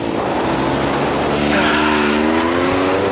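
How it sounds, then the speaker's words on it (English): A Can-Am X3 side-by-side with LSR suspension, driven in four-wheel drive through mud, its engine droning loud and steady with rising revs and a faint tire squeal. "We're going to put her in four wheel and see what happens."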